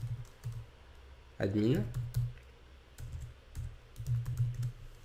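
A computer keyboard is typed on in short bursts of clicking keystrokes, with a louder key sound partway through, while someone speaks quietly in French over the typing.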